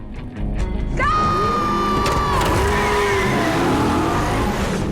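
A Plymouth Barracuda stunt car with a modern fuel-injected engine roars loudly and continuously, revving up sharply after a moment and holding a strained, rising engine note with tire noise underneath.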